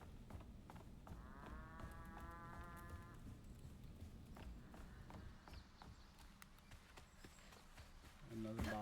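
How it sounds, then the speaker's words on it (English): A cow moos once in the video game South of Midnight, a drawn-out low call for a couple of seconds, with footsteps and game ambience around it and a voice talking. "I hear a cow."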